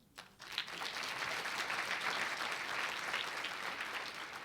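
An audience at a school district State of the Schools address bursts into sustained applause, many hands clapping steadily at a moderate distance.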